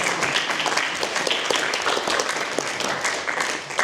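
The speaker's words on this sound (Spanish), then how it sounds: "Así que también voy a pedir el aplauso." Audience applause at a literary seminar, dense steady clapping from a crowd filling the room for the whole stretch, loud and close with no talk over it.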